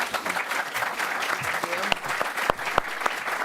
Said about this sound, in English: Can we please have a warm round of applause?